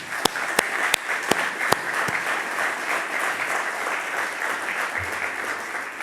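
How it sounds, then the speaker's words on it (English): A crowd at the API State of American Energy 2025 event applauds loudly and steadily. A few sharp individual claps ring out at the start before the clapping settles into a dense, sustained roar. "why don't we give everybody a big hand of applause."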